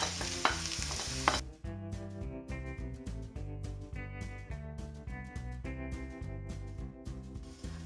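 Minced meat frying and being stirred with caramelized onions in a pan, a continuous close sizzle with repeated scraping strokes, louder in the first second and then settling.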